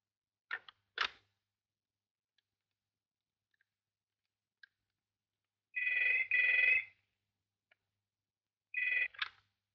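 An indoor telephone rings in short double bursts separated by silence, with a few faint clicks between the rings.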